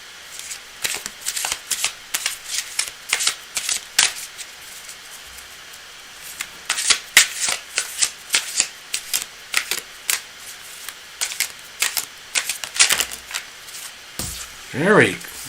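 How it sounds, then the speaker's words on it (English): Rapid crisp riffles and snaps of cards being shuffled, in irregular bursts throughout, close by, with a brief voice near the end. "I was really enjoying the shuffling then."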